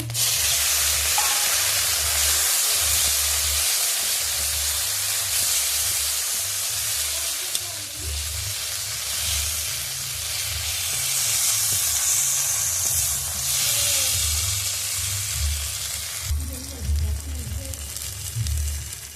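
Ginger and chopped tomato sizzle hard in hot oil in a pan for a Bengali moong dal with fish head, a loud, steady hiss with small shifts and bursts as the pan is stirred.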